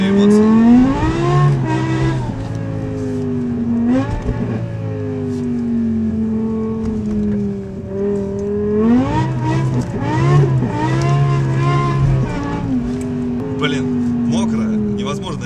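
A BMW M5 E60 engine revs hard while driving, rising and falling in repeated surges with a strong, close, howling tone, and someone talks over it.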